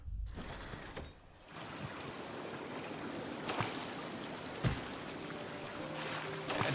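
Steady rushing waterfall noise in Hollow Knight Silksong, a continuous moderate wash of falling water with a few soft clicks and thuds from gameplay over it.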